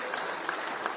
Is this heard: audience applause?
yes